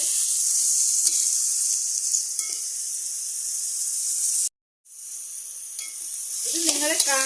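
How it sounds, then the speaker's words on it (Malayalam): Ridge gourd with green chillies sautés in a hot pan, giving a loud, continuous hiss and sizzle with occasional scrapes, broken by a short gap of silence and resuming. No one speaks. "ഇത് വഴറ്റിക്കൊണ്ടിരിക്കുവാണ്."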